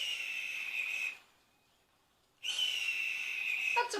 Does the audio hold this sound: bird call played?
yes